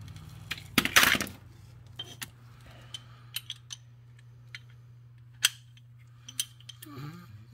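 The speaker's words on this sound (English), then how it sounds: "So I'll do that with a regular ratchet." Ratchet tightening oil pan bolts on a 2006-2011 Ford Fusion 3.0 V6: sparse, short metallic clicks at close range, spaced irregularly over a faint steady hum.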